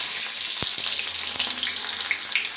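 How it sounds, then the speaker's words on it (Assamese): Onions fry in hot oil in a wok, a loud continuous close-up sizzle with a couple of sharp knocks from a utensil against the pan. "আৰু ইয়াত তেল গৰম হৈ গ'ল। মই দি দিছোঁ পিঁয়াজ"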